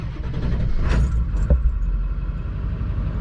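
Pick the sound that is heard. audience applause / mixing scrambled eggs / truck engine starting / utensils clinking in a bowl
truck engine starting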